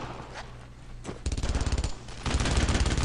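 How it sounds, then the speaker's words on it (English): Rapid machine gun fire in Brothers in Arms: Road to Hill 30, in two loud, close sustained bursts with a brief pause between them, after a quieter lead-in. "Is that a fucking machine gun?"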